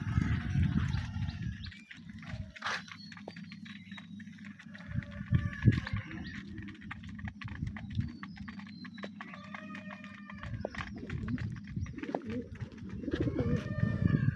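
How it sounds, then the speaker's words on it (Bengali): Pigeons cooing while they feed on ginger, repeated soft throaty coos from several birds close by, overlapping in an uneven rhythm with scattered light pecking and shuffling noises and no talking. "এই যে আমার কবুতরের সবগুলো কবুতর আদা খাইতেছে।"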